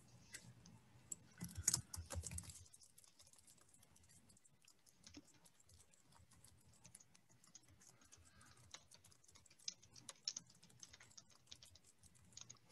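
Keys clatter on a computer keyboard while code is entered for a vector loop program, with a loud burst of rapid typing early on, then lighter, scattered taps and clicks continuing quietly throughout.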